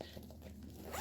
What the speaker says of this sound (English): I zipped the bag.